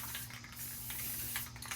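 A spray paint can hisses in light coats onto a chair. The spraying is steady and close, with a few short louder bursts and no talking.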